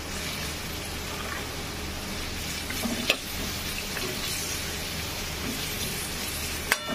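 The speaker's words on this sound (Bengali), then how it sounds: "নিয়ে প্রথমে দিয়ে দিচ্ছি ছোটো ছোটো করে কেটে রাখা গাজর। আস্তে আস্তে অ্যাড করতে থাকবো।" Chopped carrots frying in oil in a pan for egg chicken vegetable chowmein, a steady soft sizzle throughout with a couple of brief utensil clinks against the pan.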